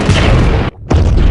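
A loud, close boom of a movie plane crashing into the sea, with a sustained roar that briefly cuts out and then returns.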